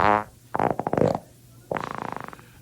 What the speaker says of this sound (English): That fart really goes on a journey.